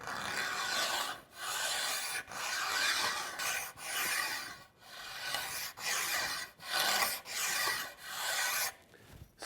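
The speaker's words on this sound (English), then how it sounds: "And you can see how thin these little shavings are that I'm taking off" Thin shavings of maple are taken off a bow's limbs with steady rasping strokes, about nine even passes with short pauses between them, close and quiet with no voices.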